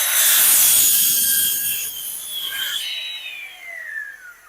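Fuzz weatherstrip is cut during a PCA A100 screen door installation, giving a short, close, high-pitched rasping cut that tapers into a fading scrape.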